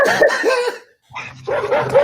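Pit bull dogs bark close by in two bursts of several sharp, loud barks, separated by a short silence, with no talking over them.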